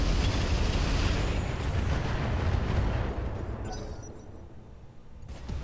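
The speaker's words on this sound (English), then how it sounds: "Fire the incendiaries." Incendiary weapons fire in the BattleTech Roguetech mech combat game, a loud sustained roaring blast and rumble that dominates the first three seconds, then fades to a lower crackling burn with a few faint high clicks.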